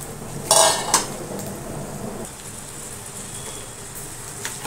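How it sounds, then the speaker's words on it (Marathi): Rice tumbles into a pan of browning onions for val khichdi with a quick clattering rush, then settles into a soft, steady sizzle as it roasts. "आता आपण याच्यावर हे तांदूळ घालून घेऊ."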